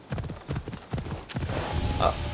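A demon horse gallops in Assassin's Creed Odyssey, its hooves beating a steady, close clip-clop rhythm. A brief whinny-like tone rises near the end.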